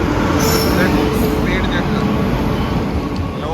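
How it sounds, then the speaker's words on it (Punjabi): A train arriving at a station rumbles steadily close by, a constant loud mechanical roar with faint squeals and voices mixed in. "ਹਾਂਜੀ ਟ੍ਰੇਨ ਆ ਚੁੱਕੀ ਹੈ ਸਾਡੀ"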